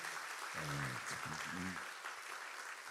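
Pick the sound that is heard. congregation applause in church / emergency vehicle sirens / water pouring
congregation applause in church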